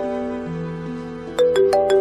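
An electronic phone ringtone plays a repeating melody of clear tones, with sharper chiming notes joining near the end. No voices.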